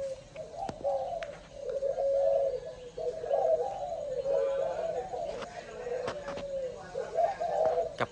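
Pet doves of a crossbred line coo in repeated low, rolling phrases at close range, nearly continuous, with faint bird chirps in the background.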